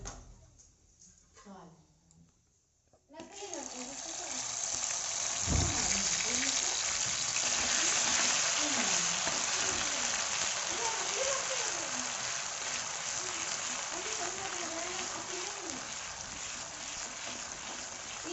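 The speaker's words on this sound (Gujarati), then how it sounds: "આપણું તેલ ગરમ થઈ ગયું છે હવે આપણે તેમાં જીરું નાખીશું રાઈ જીરું તતડે" Mustard and cumin seeds crackle in hot oil, a dense rain-like spatter that starts suddenly and keeps going steadily while a person talks over it.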